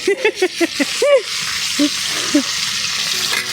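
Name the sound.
hilsa fish frying in oil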